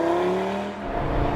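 Audi TT RS Performance with all-wheel drive accelerating hard, its engine note rising loudly and steadily under a constant rush of road and wind noise.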